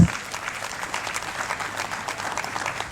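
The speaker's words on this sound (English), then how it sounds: "Can we clap for ourselves?" Steady applause from a crowd, dense clapping sustained for the whole span at moderate loudness.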